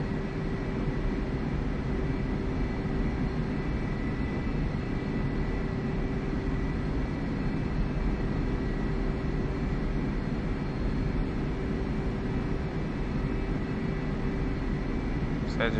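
A jet aircraft in the DCS flight simulator roars steadily for the whole stretch, a dense, unbroken wash of engine noise with a constant hum. The sound stays loud and even throughout, with no clear approach or fade.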